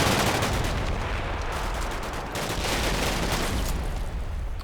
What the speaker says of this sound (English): Lots of shooting throughout.